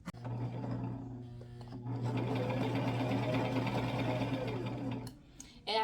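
Sewing machine from a craft shop unboxing, running at a slow steady pace with an even mechanical chatter for several seconds, close by, then stopping.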